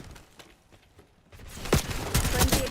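Call of Duty Black Ops gunfire: scattered faint shots at first, then loud rapid bursts of automatic fire close by, overlapping with other game noise.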